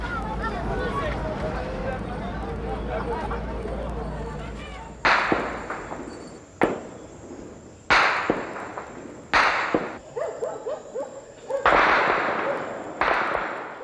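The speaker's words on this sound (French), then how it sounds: "Ils tirent toute la nuit pour effrayer." Gunfire during a tense night in Port-au-Prince, Haiti: a series of sharp, loud cracking shots at irregular intervals, some close and echoing, following a stretch of talk and background noise.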